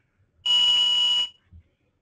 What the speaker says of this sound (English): You'll hear our VoIP phone.